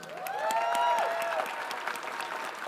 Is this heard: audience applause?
yes